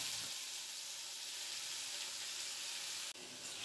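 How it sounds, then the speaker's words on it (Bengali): Chopped onion frying in oil in a wok gives a continuous, fairly loud hiss and sizzle with a brief interruption near the end, and no talk. "বাকি অর্ধেকটা পেঁয়াজ কুচিয়ে এর মধ্যে দিয়ে দিলাম। পেঁয়াজটা নাড়াচাড়া করে ভেজে নেব।"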